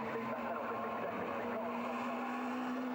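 Radical race cars circulate at Castle Combe circuit on a drying track, a steady, fairly faint engine drone holding one sustained note beneath a commentator's voice.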